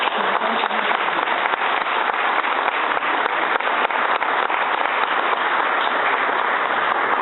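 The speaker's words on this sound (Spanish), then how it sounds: "recibamos con un fuerte aplauso" A room of supporters at a political party event in the State of Mexico applauds to welcome Julio Castillo López, giving a dense, even clapping that runs at a steady level for about seven seconds.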